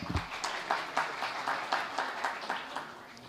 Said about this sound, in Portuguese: Aplausos para todos, hein?